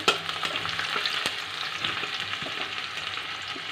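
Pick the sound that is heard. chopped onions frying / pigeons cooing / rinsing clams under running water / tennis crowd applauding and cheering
chopped onions frying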